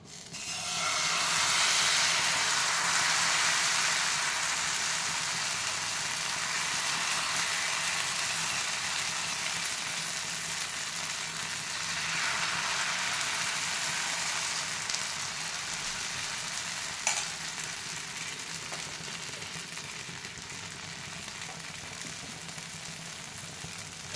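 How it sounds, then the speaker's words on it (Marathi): Wheat flour chilla batter frying on a hot pan makes a long, steady hissing sizzle that swells at the start, then slowly softens, with a single brief click near the end. "पॅन छानपैकी तापलेला आहे. आता आपण हे बॅटर घालायचं."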